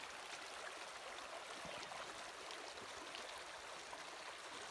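Clear stream water flowing outdoors, a steady broadband rush and gurgle that stays even and fairly faint throughout, with no voices over it.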